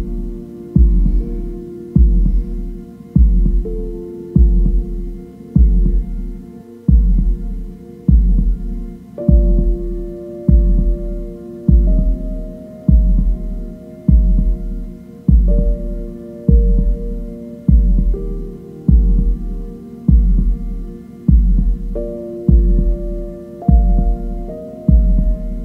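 A deep, slow heartbeat pulses loud and close in a steady repeating rhythm beneath a sustained meditation drone whose tones shift gradually, with no talking.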